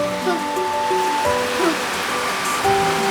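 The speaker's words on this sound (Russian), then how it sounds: "О, какой дождь." Rain falls steadily in a thunderstorm, a continuous hiss beneath a voice with tonal, sing-song speech over it.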